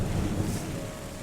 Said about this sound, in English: Look at this! The thunderstorm is converting the wasteland and the ocean.